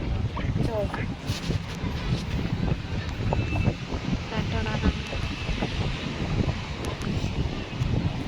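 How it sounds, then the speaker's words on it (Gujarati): Steady wind buffets the microphone at Nagoa Beach in Diu, a rough, gusty roar that continues for the whole stretch. People talk over it. "થોડોક અવાજ આવશે પવનનો."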